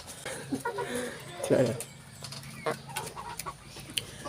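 Rhode Island Red chickens cluck in short bursts close by on a hot day, with a person talking over them and a busy farmyard background.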